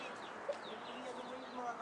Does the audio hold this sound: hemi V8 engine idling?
no